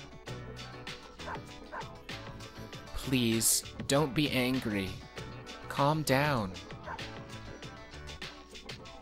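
In Persona 3 FES, a dog yips, whimpers and barks in several bursts, close and clear, while a person speaks soothingly between them.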